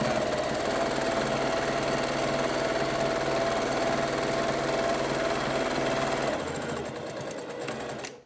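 A sewing machine stitches a fabric bowl cozy in one long continuous run, loud and close, its motor buzz steady before slowing and stopping near the end.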